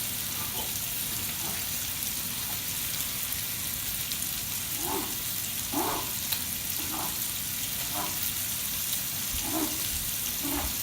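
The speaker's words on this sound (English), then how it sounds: "the bacon is over there simmering and smelling awfully good" Bacon sizzling in a pan, a steady dense crackle and hiss running throughout with occasional soft knocks and clatters nearby.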